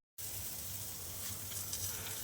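Meat sizzles on a braai grill, a quiet, even crackling hiss that starts abruptly and holds steady, with no voices.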